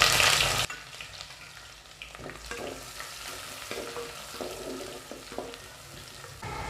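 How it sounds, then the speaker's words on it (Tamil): Chopped onion fries in ghee, opening with a brief loud burst of hiss before settling into a softer steady sizzle with scattered spatula scrapes, close by and free of speech. "இப்போ வெங்காயம் நல்லா வதங்கிடுச்சு."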